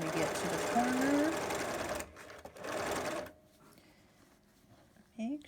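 A sewing machine runs a quarter-inch seam on a child-sized fabric mask, stitching forward and then back stitching in a steady, close whir for about three seconds, then stopping; a brief clatter follows near the end.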